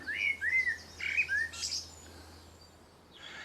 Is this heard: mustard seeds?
no